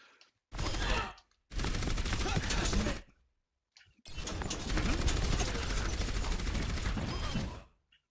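Heavy video-game gunfire comes in long, loud, dense bursts separated by short silences, with a mechanical clatter between volleys.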